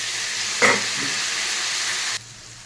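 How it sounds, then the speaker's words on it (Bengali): Potatoes, beans and carrot frying in a pan with spring onion greens and green chilli, a loud steady sizzle with a brief stirring clatter, which then drops abruptly to a softer hiss. "সবজিগুলো বেশ সুন্দর ভাজা হয়ে গেছে"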